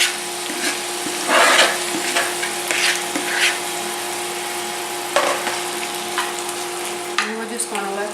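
Italian greens fry in a pan with golden-browned garlic, giving a steady close sizzle broken by several louder bursts as they are stirred and tossed.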